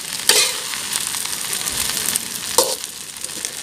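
Rice with Chinese sausage, shiitake mushrooms and tomato sizzles and is stirred in a hot pan, with steady frying crackle and a couple of louder scraping stirs, no voices.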